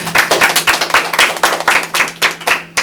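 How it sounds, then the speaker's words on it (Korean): An audience at a university seminar on AI creative works gives a short round of applause, close and fairly loud, with a few hands clapping in a slightly uneven, pulsing rhythm. "네, 박수 한번 주세요."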